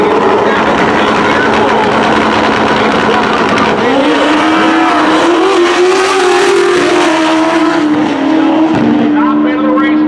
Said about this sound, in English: Top end of the racetrack, Brandon Lynn goes 672 at 208 miles an hour